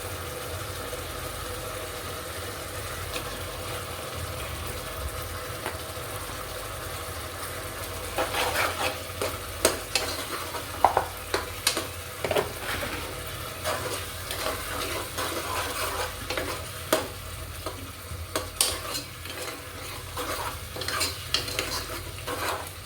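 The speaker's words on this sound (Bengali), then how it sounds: "এবার আমি রান্না মাংস অ্যাড করছি।" Cooked meat stirred in a pan of spicy pasta: a low steady sizzle, with scraping and clinking stirring strokes joining partway through and continuing in irregular bursts.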